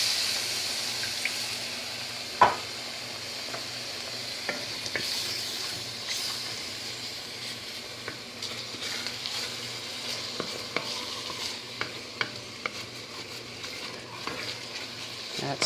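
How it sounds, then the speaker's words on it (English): Chicken broth sizzles in a pan while chili is stirred, lifting browned bits from the bottom; a steady hiss with scattered clinks and scrapes of a utensil, close and moderately loud, no talk. "put a little bit of chicken broth on the bottom here to lift up the bits from the pan"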